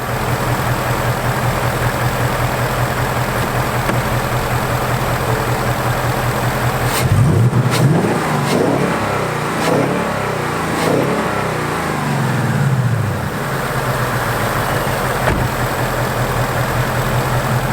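A 2018 Ford Mustang GT or Chevy Camaro SS V8 idles, then is blipped through a few sharp revs with loud exhaust bursts midway before settling back to a steady idle, heard alone and close.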